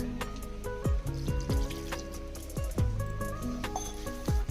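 Milk poured into a palm-fruit cake batter with grated coconut, cashews and raisins, a close, wet trickle with soft gurgling splashes and a few light clinks.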